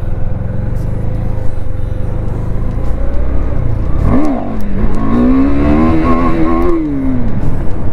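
A KTM Duke 390 motorcycle sits under steady rumble, then its engine revs up sharply for a wheelie, a rising whine that holds and wavers before easing, loud and close.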